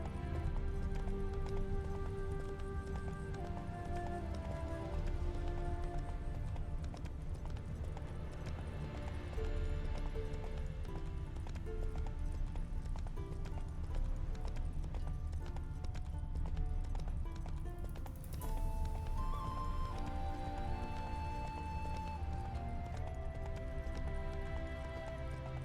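Roach the horse gallops in The Witcher 3, with steady clip-clop hoofbeats that run continuously under a bed of game music.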